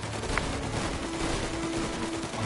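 Gunfire in a shootout in the video game Mafia Definitive Edition, a dense burst of overlapping shots that crackles continuously through the short stretch, loud and unbroken, with no speech.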